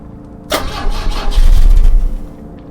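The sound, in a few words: car engine cranking but not starting, from video game The Drifter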